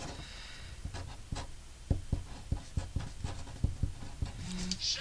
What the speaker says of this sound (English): We're going to write that down.